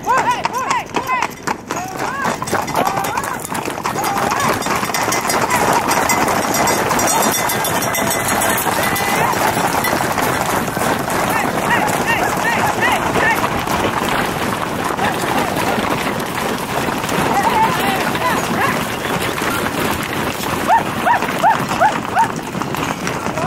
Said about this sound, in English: And this is the morning ritual of bringing the horses in.